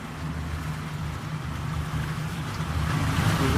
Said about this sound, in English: Oh, they just fired up the engines.